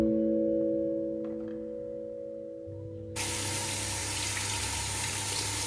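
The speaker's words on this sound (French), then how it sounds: "Pendant ce temps, je rince les brosses" Water runs from a tap while makeup brushes are rinsed. After a few seconds of low humming, a strong, steady rush of water starts and continues loud and close until the end.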